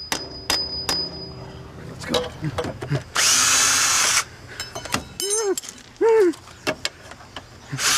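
Sharp metallic strikes and a brief harsh power-tool burst ring out close by in a trailer park yard, with scattered impacts before and after and voices talking around them.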